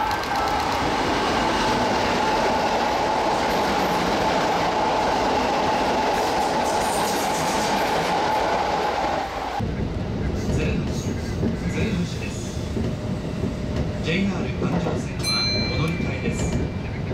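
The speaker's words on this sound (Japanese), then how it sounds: "ちょうど大阪線の中川駅急行列車とすれ違いました" A Kintetsu express train runs on a quadruple-track section near Osaka with a steady loud rumble and wheel clatter, the sound shifting abruptly midway as it passes another express train; a narrator talks over it.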